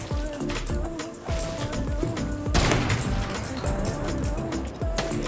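Shotgun blasts in a video game, a few sharp shots standing out over continuous game sounds, with a loud one near the middle, fairly close.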